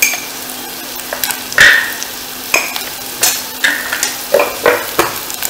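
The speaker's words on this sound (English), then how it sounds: "Fry it a little bit," Spices with dhania powder fry in a pan for Sindhi dal, a soft sizzle underlying repeated scraping and tapping of a spoon stirring against the metal at an uneven pace.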